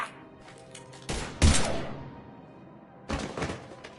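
Loud bursts of gunfire in the Mass Effect 3 video game, a sharp volley early on followed after a pause by another burst, with no voices over them.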